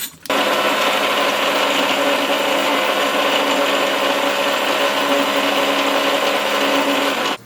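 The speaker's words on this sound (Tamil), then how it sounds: "அதில் நான் ஒரு 10 பல் முந்திரி பருப்பு போடுறேன். அதையும் சேர்த்து ஃபைனாக அரைச்சிடும்." Electric mixer grinder whirring steadily as it grinds coconut, pepper, cumin and cashews into a fine paste, loud and continuous from start to finish with a brief stop at each end.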